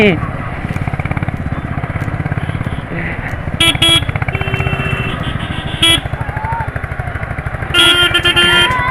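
A motorcycle engine chugs steadily up close while riding, with wind rumble, a couple of horn toots and a voice speaking over it.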